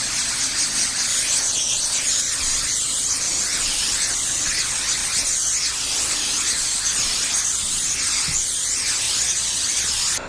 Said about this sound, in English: now I'm going to go shut that compressor off because it's been running this whole time